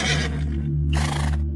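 A loud, close horse whinny in a dramatic sound-effect style, a long shrill neigh that breaks into a second quavering burst, heard alone with no speech.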